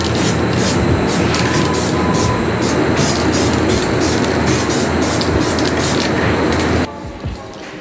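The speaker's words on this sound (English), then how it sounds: "Now I'm going to spray a candy apple red from a spray can that I got from VG Auto Paints" An aerosol spray can lays candy apple red paint over a chrome-finished car headlight in one loud, continuous close-up hiss lasting nearly seven seconds before cutting off.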